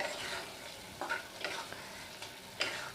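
Moong dal and bottle gourd curry being stirred in a pan on the stove, a traditional Bengali lau ghonto. A soft background sizzle carries a few faint, spaced spatula strokes, quiet and close.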